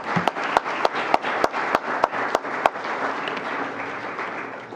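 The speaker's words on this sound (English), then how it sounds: "Let's give them a round of applause for that one." An audience at a conference event applauds after a performance, a moderate crowd clapping with a few sharp, prominent individual claps standing out in the first half before the sound evens out.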